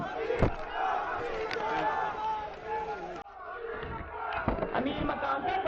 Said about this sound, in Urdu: امیر مقام پہ بڑے نعرے لگ رہے ہیں آپ کے